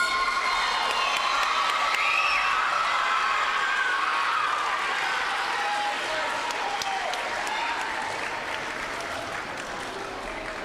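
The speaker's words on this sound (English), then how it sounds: "let's give these guys a round of applause" Audience applauding students at an elementary school end-of-year awards ceremony for fourth to sixth graders, a dense wash of steady clapping with scattered cheers and children's shouts, fading slightly toward the end.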